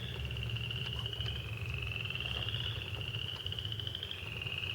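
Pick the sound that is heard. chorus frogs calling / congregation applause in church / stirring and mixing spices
chorus frogs calling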